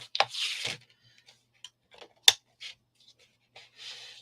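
Scissors cut through paper close by, a few short crisp snips and rustles separated by quiet gaps, with light handling clicks in between.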